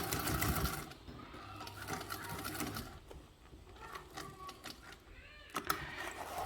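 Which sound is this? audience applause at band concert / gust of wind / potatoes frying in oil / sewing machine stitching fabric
sewing machine stitching fabric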